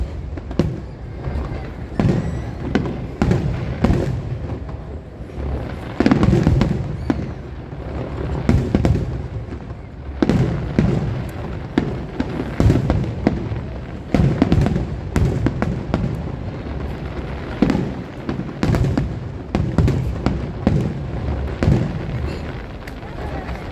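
Fireworks at the Oyama summer festival in Japan, a dense run of booming bursts and crackling pops rolling on continuously, loud and fairly close, with spectators' voices faintly mixed in between the blasts.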